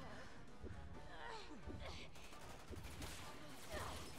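Rapid bursts of gunfire in the video game Resident Evil 6 crackle through a continuous fusillade, with voices talking over the shooting throughout.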